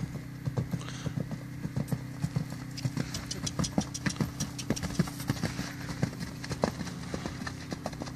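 A horse canters, its hooves clip-clopping in a steady, rolling rhythm at moderate distance throughout, over a low background hum.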